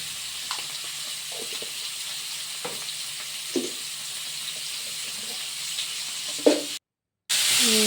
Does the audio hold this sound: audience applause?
no